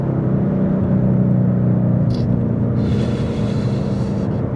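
Engine of a 2011-14 Ford Mustang 5.0 with a misfire fault, idling with a bit of balanced throttle, a close, loud, steady low rumble that swells slightly, with no talk.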